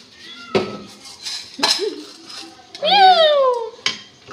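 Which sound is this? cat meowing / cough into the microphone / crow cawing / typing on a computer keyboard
cat meowing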